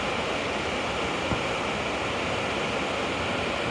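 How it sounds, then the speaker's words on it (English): A waterfall near Grassy Flats Campground gives a constant, dense broadband roar of falling water, steady and unbroken throughout, with no voices. "here's the best view of the other waterfall, kind of framed in by these trees."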